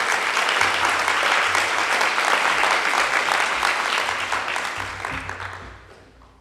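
A conference audience applauds loudly and continuously, a dense wash of clapping that holds steady and then fades out toward the end.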